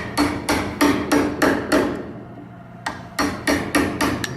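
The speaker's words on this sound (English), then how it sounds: "take small taps with the chisel, break out some more chips" A hammer or mallet drives a chisel in small, sharp taps to break wood chips out of a sawhorse joint, two rapid bursts of about five close, loud strikes each separated by a short pause.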